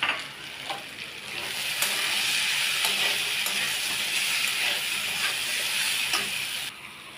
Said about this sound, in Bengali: নুনটা স্বাদ অনুযায়ী সব দিয়ে ভালো করে আমি কষিয়ে নেব।